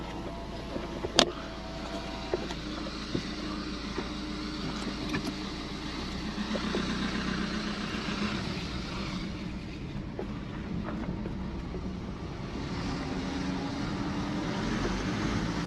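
A BMW X1 on a short test drive after a fix for stiff power steering gives a steady low cabin rumble of road and engine noise, with a few sharp clicks near the start.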